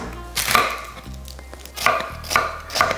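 A kitchen knife slices an onion thinly lengthwise on a cutting board, with steady knocks of the blade in a loose rhythm, close and clear, four or five cuts.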